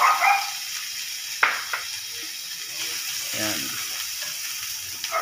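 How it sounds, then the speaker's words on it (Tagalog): Carrots sauté in hot canola oil in a pan, a steady close sizzle with a few clinks and stirring sounds, and a person speaks briefly over it. "ilalaglag na natin, gigisa na natin ng carrots"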